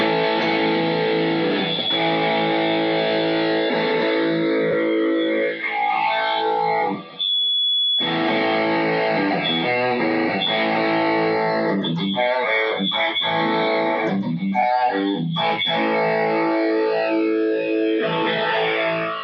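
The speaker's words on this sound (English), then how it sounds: "it's feedbacking over the notes I am actually playing. So that's crazy. That's a lot of feedback." Enya Nova Go Sonic electric guitar played loud through effects, sustained howling feedback tones ringing over the played notes, with a sharp high squeal breaking through midway and distorted chords continuing around it.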